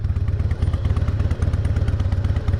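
A 2004 Harley-Davidson Softail crawling through a slow race test, its engine loping at low revs with a steady rhythmic thumping pulse, close and loud with no talk.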